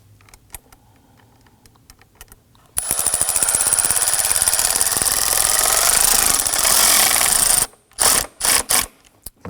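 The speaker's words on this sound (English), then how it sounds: "use our long extension to get down there and tighten up our hose clamp" A ratchet on a long extension tightens a hose clamp on a 2003-2014 Volvo XC90 during a serpentine belt tensioner replacement. Scattered clicks and taps come first, then a loud, continuous rapid ratcheting buzz for about five seconds, ending in several short bursts.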